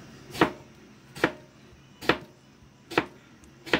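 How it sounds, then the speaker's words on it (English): Fruit being chopped on a cutting board while preparing fresh smoothies, a knife striking the board five times at a steady, slightly uneven rhythm, close and crisp with a quiet pause between each chop. "once I chop it up like this"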